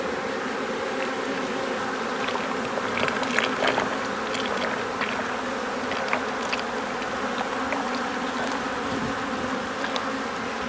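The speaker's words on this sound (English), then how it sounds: "we got a lot of bees that are crawling into there already" Honeybees at a hive in July drought conditions swarm and buzz steadily around a feeder, a dense continuous insect hum with scattered louder passes of individual bees close by, no talking.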